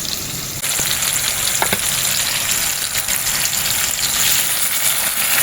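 Ground spice paste hitting hot oil with lightly fried onion and tomato in a pan, a loud, dense, continuous sizzle with a few brief stirring clinks, close and uninterrupted by speech.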